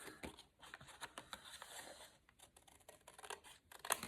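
Scissors are handled and snip faintly while a paper junk journal envelope is made, with light paper rustles and small clicks spread across a quiet tabletop.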